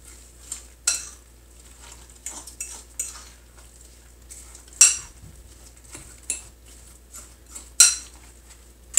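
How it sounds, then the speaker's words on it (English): A utensil stirs apple cinnamon muffin batter in a bowl, giving soft scraping strokes broken by several sharp clinks against the bowl at irregular intervals, close and fairly quiet. "I don't like to over mix it"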